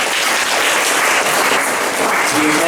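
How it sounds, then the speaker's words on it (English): An audience at a student comedy gig applauds, a dense, steady wash of clapping that carries on loudly throughout. "Give them a round of applause, please."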